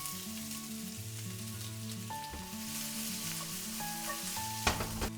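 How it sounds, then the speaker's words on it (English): Onions frying in olive oil in a hot pan: a continuous close sizzle under sustained tonal hums and ringing, with a sharp clack near the end and no voices. "got the pan nice and hot. Some olive oil. Onions."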